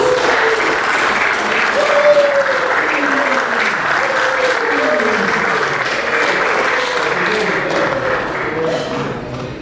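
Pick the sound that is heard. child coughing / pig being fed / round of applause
round of applause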